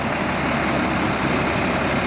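The engine of a mid-size school bus converted to an RV runs as a steady, loud, low rumble with no breaks, close by and with no voices over it.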